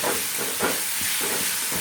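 Spiced masala with a small tomato frying in hot oil in a pan, a steady dense hiss and sizzle with brief stirring swells, close and alone.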